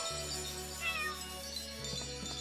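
A cat in the video game Chained Echoes meows once, a short rising-falling cry over a sustained low musical drone and game music, heard without speech.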